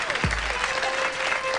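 Brief burst of studio audience clapping with crowd noise on a TV talk show, cut short, alongside a low thump and a sustained tone.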